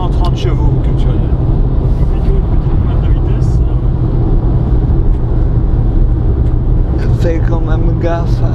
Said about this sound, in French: là tu vois j'accélère